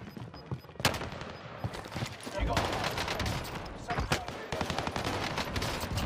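Dense gunfire and bursts of automatic weapon fire in Call of Duty Warzone on the Caldera map, with sharp loud shots and rattling volleys running throughout over a steady battle din, with a player's voice mixed in.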